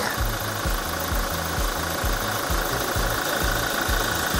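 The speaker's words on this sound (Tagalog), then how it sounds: "Napakatahimik, napakalinis pa ng engine niya." A Toyota Hilux Conquest with a 2.8 litre 4x4 diesel engine idles nearby, a steady low rhythmic knocking throb with a constant hum above it and no voices.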